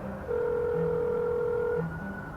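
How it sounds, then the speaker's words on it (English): A telephone line sounds while a call is placed to a doctor's office, a single steady electronic tone held for about a second and a half between brief low beeps, loud and close. "you should just call Dr. Bodden"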